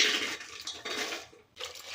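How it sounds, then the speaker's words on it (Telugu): Pigeon pea pods being washed in water, soft sloshing and splashing in uneven bursts with a short pause, close and fairly quiet. "కందికాయని వాటర్ వేసి శుభ్రంగా కడుక్కోవాలి"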